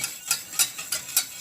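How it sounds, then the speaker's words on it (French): Cream and honey being whisked in a bowl, with quick rhythmic metallic strokes, about five crisp scrapes in a steady beat, close and clear. "Fouettez la crème et le miel un petit peu"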